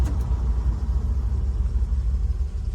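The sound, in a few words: 1957 Chevrolet 3100 pickup driving during brake test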